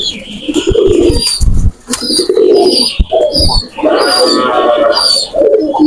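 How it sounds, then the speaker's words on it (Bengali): Pure-line Bhusal breeding pigeons cooing in a pigeon breeding room, with repeated close throaty coos and chirps, plus a few short wing flaps and bumps, loud and near. "এটা আমার একটা ভুসাল কবুতর।"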